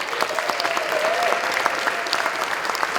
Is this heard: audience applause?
yes